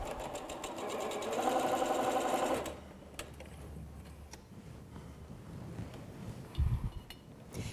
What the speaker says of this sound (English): I'm going to sew this green square to this half square triangle